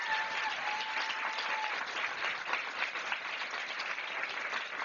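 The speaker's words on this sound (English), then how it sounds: "Let's give them another round of applause." An audience applauds steadily at a public event where America is being thanked, the dense clapping holding at an even level throughout with a few brief cheers near the start.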